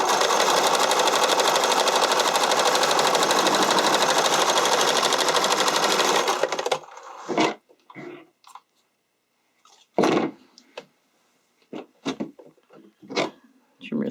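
A sewing machine runs loud and close in a fast, continuous stitching burst while underwire bodysuit cups are sewn in, then stops abruptly and is followed by scattered thumps, fabric handling and short clicks.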